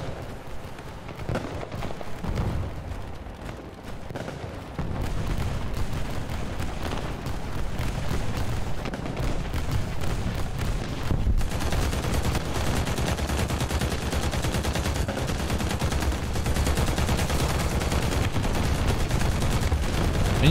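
Continuous rattling bursts of aircraft strafing gunfire and explosions in the combat game War Thunder, dense, loud and unbroken throughout, growing heavier after the first few seconds.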